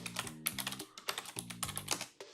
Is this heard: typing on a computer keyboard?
yes